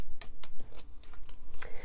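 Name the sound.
shuffling tarot cards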